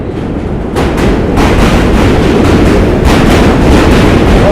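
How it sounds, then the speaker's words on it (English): A New York subway train rumbles across a bridge into Brooklyn, a loud continuous roar with rhythmic clatter of wheels over track joints, close by and drowning out everything else. "Here comes the subway"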